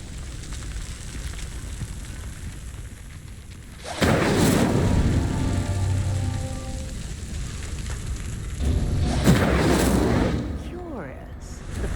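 A fire spell ignites a pyre in the Hogwarts Legacy video game, two loud whooshing bursts of flame each roaring for a few seconds over a steady rumbling background.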